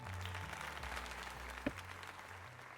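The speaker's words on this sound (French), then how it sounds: "Allons tout le monde, applaudissons Jenna comme il se doit." In-game applause in Pokemon Legends Z-A after a tournament win, a faint, quiet clapping texture under a low musical drone, with one sharp click near the middle.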